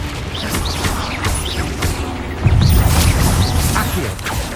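Expelliarmus spell cast in Hogwarts Legacy amid busy combat, a whooshing magical burst with mechanical clanks and impacts, close and loud among other spell effects.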